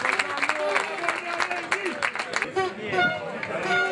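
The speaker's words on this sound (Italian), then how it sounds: "esce applauditissimo il capitano Jonathan Granito" A football stadium crowd applauds the substituted captain during a Coppa Italia quarter-final, sustained clapping and murmur throughout with a commentator talking over it.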